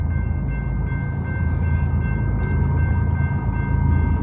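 Union Pacific manifest freight train, unit 7738, rolling eastbound past a road crossing, a loud, continuous rumble of wagons with a steady tone above it, close and filling the whole stretch.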